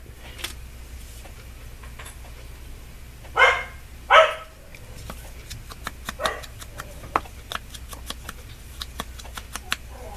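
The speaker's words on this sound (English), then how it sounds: "Just trying to get him to stop barking" A pet dog barks twice loudly indoors, two sharp close barks in quick succession, followed by light clicking and tapping sounds over a low hum.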